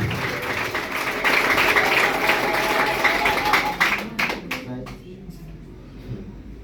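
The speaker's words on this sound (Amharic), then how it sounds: "አጨብጭቡ ለእግዚአብሔር ክብር።" Applause from a church congregation, steady and fairly loud for several seconds, then tapering off into scattered claps and quiet.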